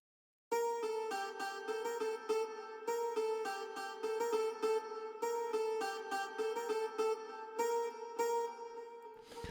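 A synth counter melody from an Afrobeats beat made in FL Studio plays alone, bright plucky notes repeating in a steady rhythm after a brief silence, then stopping abruptly.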